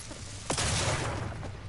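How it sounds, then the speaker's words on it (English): Explosions in the video game Skylanders Imaginators, a sudden burst that opens into a dense rumbling roll of blasts and crackle lasting about a second, fairly loud over a low background. "All these explosions."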